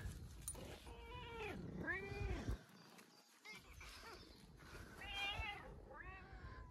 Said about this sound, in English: Oh, and a cat.